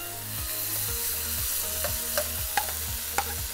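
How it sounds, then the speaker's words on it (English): Beef pieces go into a hot stir-fry pan coated in sauce, giving a steady sizzle with stirring and a few sharp clinks of utensil on the pan. "Now, I am gonna slowly now put the beef"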